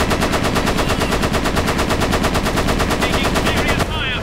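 An aircraft machine gun in Flying Tigers: Shadows Over China fires a long, loud, rapid burst of evenly spaced shots, stopping abruptly near the end.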